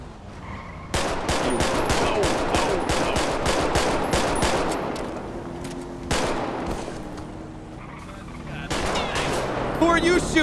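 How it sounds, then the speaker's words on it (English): Video game gunfire in a police shootout: bursts of rapid shots ring out loud and close in clusters, with sharp single cracks between volleys, and faint background voices beneath. "This stupid motherfucker just starts shooting because I'm shooting."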